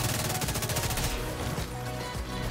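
The Railsplitter fires in The Division 2 as a rapid, even run of close shots, then trails off into a softer rattle.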